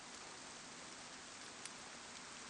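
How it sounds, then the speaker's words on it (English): Steady rain in the video game DayZ, set in Chernarus, a quiet, even hiss of falling water with no distinct drops standing out, faint and continuous throughout. "Well, it's raining now"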